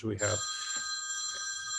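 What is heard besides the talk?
telephone ringing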